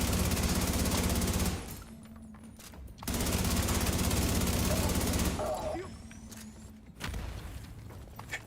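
Bursts of P416 rifle fire in a video game, dense rapid shots in two long strings with short pauses between, loud and close, with a brief quieter gap and a final shorter burst.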